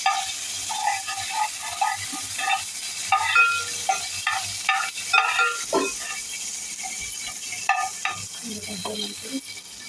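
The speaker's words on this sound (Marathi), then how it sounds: "तेल टाकलं चार पाच चमचे म्हणजे जिरा मोहरी कढीपत्ता टाकलं हिंग टाकलं" Cumin, mustard seeds, curry leaves and asafoetida are tempered in hot oil, giving a busy sizzle with scattered pops and a stirring utensil scraping, close up, with no talking.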